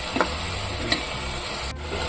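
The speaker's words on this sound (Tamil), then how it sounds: "நல்லா ஒரு 10 நிமிஷம் இந்த கிரேவி வந்து நல்லா கொதிக்கணும்." Masala gravy for mushroom pulao simmers in a pan over medium heat, giving a continuous soft sizzling bubble with occasional light pops.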